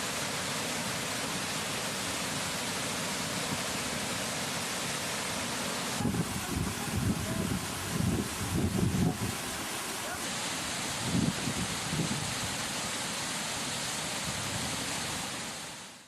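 Floodwater surges through five raised gates of the Swarna project dam, a constant loud broadband roar filling the whole stretch, with rougher, louder bursts of gushing midway.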